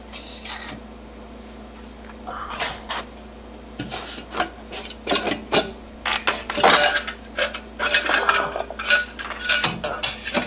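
Metal aftermarket downpipe for a BMW 440i being worked up into place under the car, with close, irregular scraping, clanking and rubbing bursts of metal against metal, no talking.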